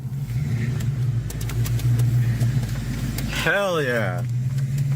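A car with a 5.0 engine: a low, steady idle rumble, then one brief rev that swells and falls away. People talk over the engine throughout.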